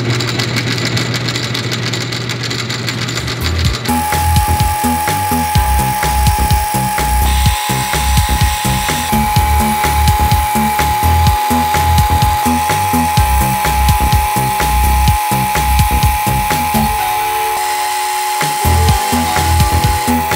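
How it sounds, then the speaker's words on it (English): A metal lathe cuts down a solid steel rod, making a slug for a pipe on a Honda Goldwing bobber build. A loud steady machine drone runs throughout, with dense rhythmic chattering of the cut, close and without speech. "We've got a solid piece of rod here, and using the lathe, I'm gonna cut it down."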